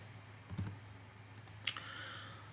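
Keys clack on a computer keyboard as shortcuts are pressed during work in SPSS, with a few sparse, quiet clicks heard up close and nothing else over them.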